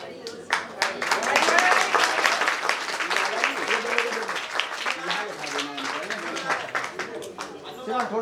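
A crowd claps along at a Hindu wedding ceremony for Lord Dwarkadhish, a steady patter of many hands mixed with loud voices and chatter that continues throughout.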